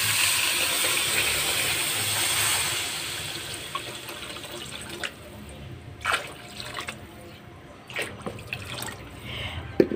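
Water is poured into a mung bean sauté in a pan, giving a rushing liquid pour at the start. Drips, splashes and clinks follow as the pouring tapers off.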